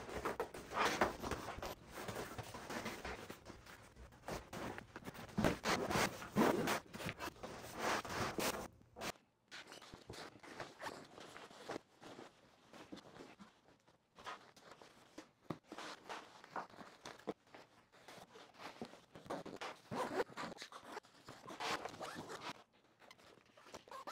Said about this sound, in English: heavy duty zippers allow you to open the bag all the way up